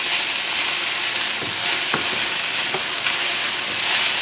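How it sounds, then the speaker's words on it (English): Beef and broccoli in sauce sizzle loudly and constantly in a hot pan, with a few brief stirring scrapes breaking through the dense, close frying hiss. "Stir it up good."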